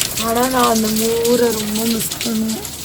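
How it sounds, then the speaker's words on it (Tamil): Heavy rain pours down in a steady dense hiss throughout, while a voice talks over it. "எவ்வளோ பெரிய மழை பாரு"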